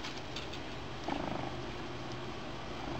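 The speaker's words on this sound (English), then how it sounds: "This is my cat." Pet cat purring up close in a quiet room, a steady low rumble running continuously throughout.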